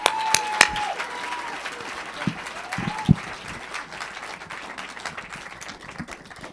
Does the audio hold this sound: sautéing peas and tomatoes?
no